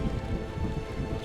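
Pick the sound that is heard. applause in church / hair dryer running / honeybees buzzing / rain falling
rain falling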